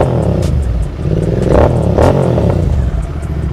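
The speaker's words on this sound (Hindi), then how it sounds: "चलो भाई अब चलाएंगे हम इंटरसेप्टर विद बैरल एग्जॉस्ट।" An Interceptor motorcycle fitted with a barrel exhaust revs steadily and loudly nearby, its engine note swelling in short throttle blips over a continuous rumble.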